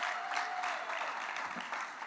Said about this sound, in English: One more round of applause for everyone who has worked hard to make tonight possible.